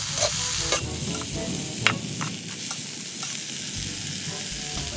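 Beetles stir-fried in a pan until crispy, giving a steady hot sizzle with scraping stirs and spatula clinks, close and continuous with no talking.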